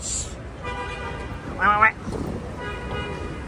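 Manhattan street traffic on 19th Street with a short car horn toot cutting through a steady rumble of passing vehicles, while a voice talks over it.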